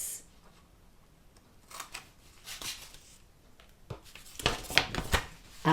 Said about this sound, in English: I'm just going to cut that as a rectangle.